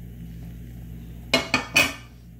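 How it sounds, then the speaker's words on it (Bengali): Fried vegetables tipped into a pot of simmering lentil dal, with three quick clattering knocks of a utensil against the pot standing out over a low steady background; no one speaks. "এই পর্যায়ে আমি যে সবজিগুলো ভেজে রেখেছিলাম সবগুলো দিয়ে দিব"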